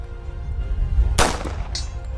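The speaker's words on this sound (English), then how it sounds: "every shot that we've taken, you've seen, gun hasn't malfunctioned once" One sharp gunshot cracks out close by, loud and sudden against a low background hum, followed by a short fainter metallic ring.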